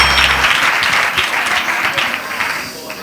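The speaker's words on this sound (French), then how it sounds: "Voilà, on applaudit." Dense applause from a school audience rewarding a correct answer in a malaria quiz, steady and loud throughout, with a brief low rumble at the very start.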